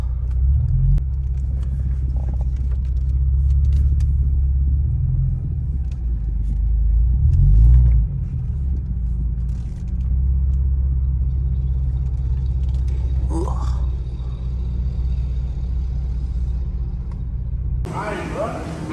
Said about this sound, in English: About to pull her in so we can get started.